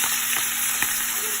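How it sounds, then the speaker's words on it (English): Rolled rump roast searing in hot oil, a steady bright sizzle with a few small pops and crackles, close and alone. "That's music to my ears, sizzling away."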